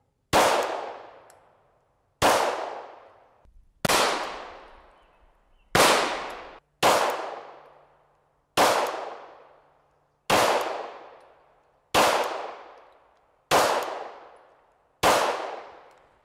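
Ten loud, sharp Glock 17 Gen 4 pistol shots ring out at a range, evenly spaced about every one and a half seconds, each crack followed by a metallic clang off steel plates and a short decaying echo.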